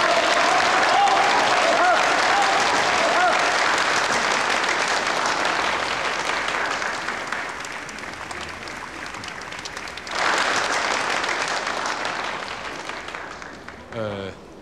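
An audience at a wedding applauds warmly to welcome the newlywed couple onto the stage. Dense clapping fills the room, then thins and tapers off toward the end.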